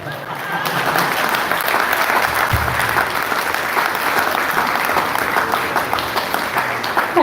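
Sustained audience applause after a performance by Mahaprasad Prabhu at a Hare Krishna Namahatta gathering on the last night of Kartik, a dense, steady wash of many hands clapping close and loud throughout, with no talk over it.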